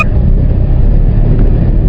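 A manual car's engine runs steadily and loudly with a continuous low rumble, revving at around 2000 RPM as the driver works the clutch and shifts up into third gear, close to the microphone.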